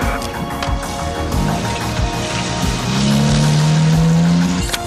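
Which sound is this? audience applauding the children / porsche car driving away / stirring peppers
porsche car driving away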